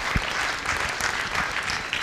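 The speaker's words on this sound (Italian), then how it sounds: "E ha preso l'applauso." Audience applause at a live stadium-stand broadcast show, a steady wash of many hands clapping at moderate level for about two seconds, with a faint voice underneath.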